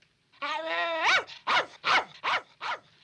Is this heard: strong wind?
no